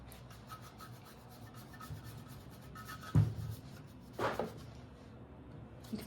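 Wax rubbed by hand onto a decorative molded lamp base, a soft steady rasping friction with two louder strokes midway, close and quiet.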